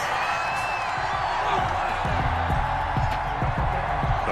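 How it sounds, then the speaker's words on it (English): Stadium crowd in the Madden NFL football video game reacting to a roughing-the-passer penalty, a steady loud wash of many voices that stays continuous throughout, with low rhythmic thumps beneath and no clear single voice standing out. "this crowd does not like that call"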